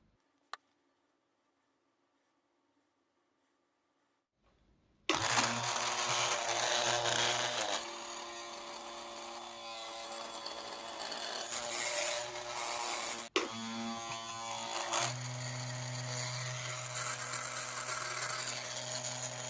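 A homemade generator starts after a few seconds of near silence, then runs on as a loud, steady, buzzing mechanical whir with rattling overtones and a brief dip partway through while lighting a small filament bulb.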